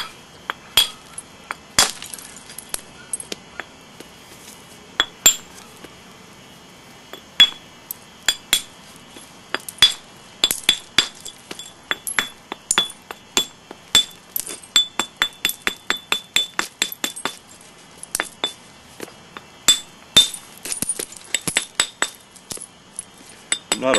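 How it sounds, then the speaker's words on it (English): Sharp glassy clicks of flintknapping as short, steep flakes are pressed and struck off the edge of an Abo blade, arriving in irregular bursts of close, crisp ticks with no talk over them. "I'm just removing short steep flakes"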